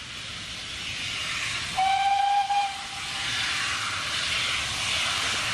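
A Great Western steam locomotive whistle blows one sustained, clear note for under a second amid loud hissing steam and rumbling train noise.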